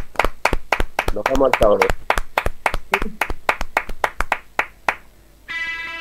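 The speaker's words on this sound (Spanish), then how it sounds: "Un aplauso." Studio audience on a Spanish rock TV show clapping in a quick, sharp rhythm of distinct close handclaps while a presenter speaks over them, ending with music starting.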